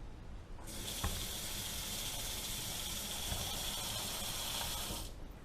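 Hot water poured for soaking grape leaves, a steady close hissing stream that starts abruptly, runs evenly for several seconds, then stops, with no speech.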